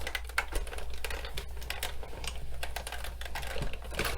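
A Big Shot die-cutting machine rolls card through an embossing folder, giving a steady close clicking and ratcheting from the hand crank over a low hum.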